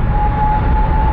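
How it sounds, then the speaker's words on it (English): An airplane passing overhead just outside an airport in Toronto, a loud, steady engine roar with a continuous drone and a faint sustained whine, with no talking. "That's an airplane. Oh. Because we're right outside the airport."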